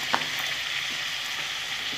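Cauliflower and potato pieces with turmeric fry in hot oil for a winter vegetable khichuri, giving a steady, close crackling sizzle with one brief clink near the start and no voices.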